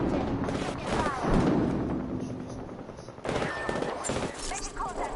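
Rapid bursts of gunfire in a PS4 shooter, loud and sustained, with overlapping volleys and a short pause mid-clip before the shooting resumes, mixed with in-game voice lines.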